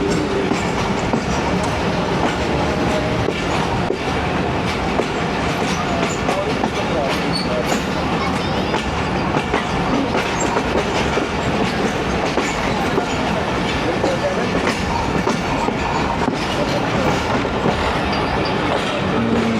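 The Awam Express passenger train runs on the line between Rawalpindi and Lahore, a steady loud rumble with rhythmic clickety-clack of wheels on rails and a faint squeal now and then, heard from on board without a break.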